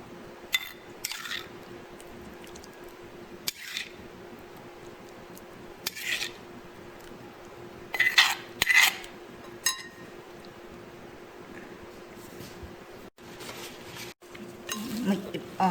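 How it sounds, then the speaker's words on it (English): Utensils clinking and scraping against a bowl while shrimp glass noodle salad is mixed with sauce, sparse light knocks and clatters over a quiet background with a faint hum. "Mix it all combined together."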